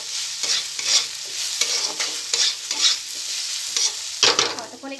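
A spoon stirs and scrapes through spices with chili powder, salt and turmeric frying in oil, with repeated close strokes over a steady sizzle.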